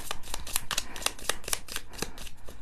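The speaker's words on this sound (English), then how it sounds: "I'm going to give this one more shuffle." Rapid riffling of playing cards, a series of crisp fluttering bursts repeating in quick rhythm, close and clear.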